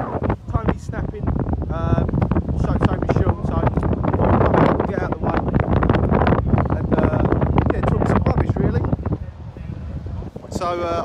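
Strong wind pummels the microphone at Lydden Hill race track during a stock car race meeting, loud constant buffeting with a person talking through it.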